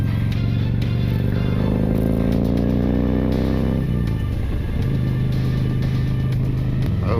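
Harley-Davidson CVO Street Glide or Road Glide Special touring motorcycle riding under load, its engine rising in pitch through gears with a distinct shift partway, then settling into a steady loud drone up close.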